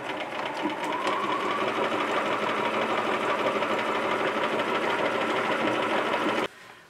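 Fabric runs through a sewing machine doing a clothesline stitch, a close, steady, rapid mechanical chatter that holds for over six seconds before stopping abruptly.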